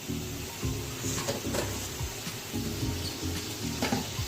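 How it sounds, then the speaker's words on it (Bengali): Masala and water come to a boil in a pan for a brinjal curry, giving a steady, close bubbling sizzle that runs throughout with small crackles and pops. "এবারে জল ফুটে গেছে"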